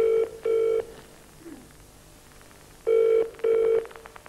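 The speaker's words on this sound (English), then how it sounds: "Oh, it's ringing out. It's ringing out." A telephone ringing tone sounds in two double rings, each pair a quick burr-burr, separated by a pause of a couple of seconds. Clear and fairly loud.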